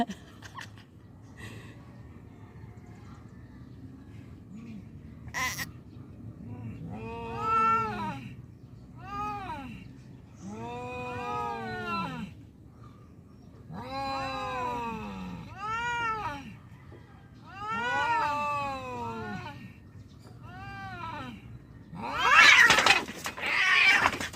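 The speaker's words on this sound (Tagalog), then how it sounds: "Ay, nag-aaway yung pusa." Cats caterwaul in a fight, with long rising and falling yowls and growls trading back and forth, close by, ending in a burst of hissing.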